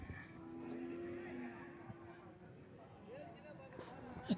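Cattle at a livestock market in Oddanchatram, Tamil Nadu, with buffalo calves and cows on sale, give a long low moo over the steady crowd noise and voices of the market.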